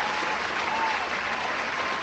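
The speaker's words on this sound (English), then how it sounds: "Give her a round of applause." A round of applause plays during a casual livestream. The clapping is dense, steady and fairly loud for about two seconds.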